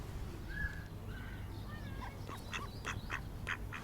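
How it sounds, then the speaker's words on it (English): Three small ducks, one female and two males, sit by a stream and give a few soft quacks and calls, fairly faint and spread out over steady outdoor background noise with birdsong. "3 little ducks. 1 female, 2 males. Sat by the stream."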